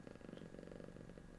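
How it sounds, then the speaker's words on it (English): A cat purring close by, a soft, steady, continuous rumble that is faint and low in level throughout the short stretch, with no talk over it. "He's still purring, but maybe he'll stop in a minute."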